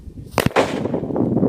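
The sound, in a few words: large elephant firecracker exploding inside a pressure cooker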